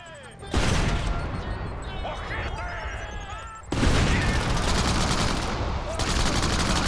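Shotgun and grenade blasts from the open-world action game Crackdown, a dense run of loud gunfire bursts and booms with a sharp jump in intensity midway, continuing with game noise and no speech.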